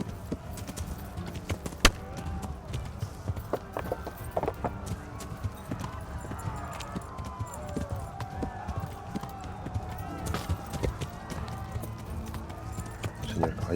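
Horse hooves clattering at a run in a Holy Roman Empire era village game, a dense rapid clip-clop throughout with scattered louder hits, voices talking over it.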